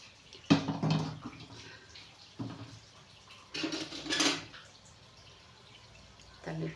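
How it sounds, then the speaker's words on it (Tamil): Tap water running into a vessel in a home kitchen, heard as several short bursts of splashing flow separated by quiet pauses, with faint clinks of utensils, fairly close and soft. "தண்ணி பிடிச்சி வச்சுக்கலாம்"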